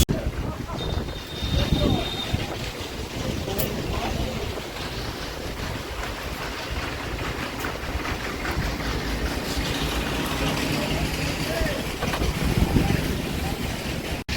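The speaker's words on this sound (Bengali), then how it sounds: "সকাল থেকে ওয়েদার খারাপ ছিল, এখন আরও বেশি মেঘ, আরও বেশি হাওয়া।" Strong stormy wind buffeting the microphone in a continuous roaring rush outdoors, gusting louder at times for the whole stretch.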